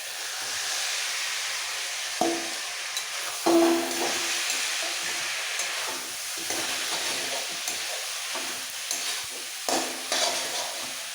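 Shredded cabbage hisses and crackles in a hot pan with spices while a spoon scrapes and knocks at intervals during the stirring, a close, steady sizzle with no voices.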